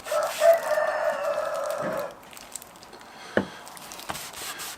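A rooster crows loudly in one long call during the first two seconds, followed by a few faint knocks and rustles, with no talk over it.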